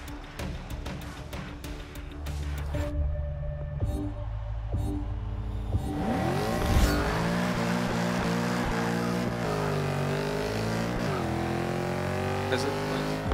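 A 2016 Mercedes-AMG C 63 S Coupé engine in the Forza 6 racing game revs and drones steadily with rising and falling pitch, loud and continuous after a brief choppy stretch of game audio.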